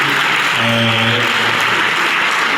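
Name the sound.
audience applause for a professor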